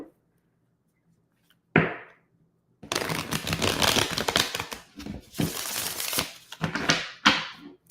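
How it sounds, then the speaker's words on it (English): Tarot cards being shuffled by hand at a reading table, giving bursts of crisp riffling and slapping that come in several separate runs after a short quiet start, close and fairly soft. "I still got to shuffle again."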